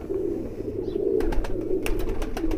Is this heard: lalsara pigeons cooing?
yes